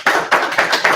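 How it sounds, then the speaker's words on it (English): Audience hand clapping: four distinct sharp claps in an even rhythm, loud and close, alone. "y'all give him a hand clap"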